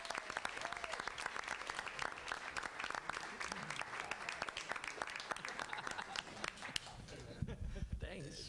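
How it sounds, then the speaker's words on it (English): Audience applause at a school board meeting, a dense, steady wash of clapping from a roomful of people that carries on for several seconds before thinning out near the end. "Let's give them a round of applause."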